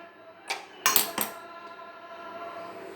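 A wide metal pan for making Mysore pak from gram flour, sugar and ghee is set down on a stove, giving three sharp clanks and clinks close by, followed by quiet.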